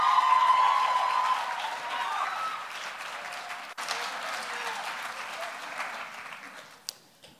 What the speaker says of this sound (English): And a loud round of applause and welcome up to the stage